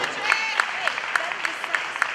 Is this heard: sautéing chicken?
no